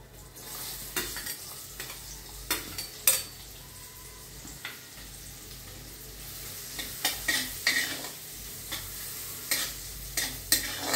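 Onion sautéing in a pan with mustard seeds, cumin, asafoetida and turmeric for misal, a spoon stirring and scraping the pan in repeated strokes over a soft, continuous sizzle, heard up close.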